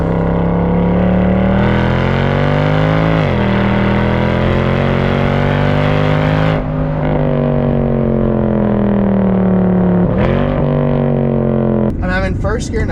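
A Mercedes C63 engine revs loudly and climbs in pitch through several paddle-shifted gear changes, with deep rumbling throughout and brief dips between shifts.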